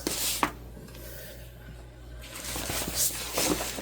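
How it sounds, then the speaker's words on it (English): Scissors trim fabric pieces for rustic book sleeves, making close rubbing and snipping sounds with a few soft cuts in irregular bursts. "Anything that sort of doesn't match up, we'll trim right down."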